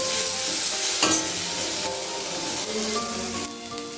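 Dates and aam papad chutney pieces frying in a pan over low to medium flame, a steady close sizzle with stirring scrapes and a sharp utensil knock, no voices.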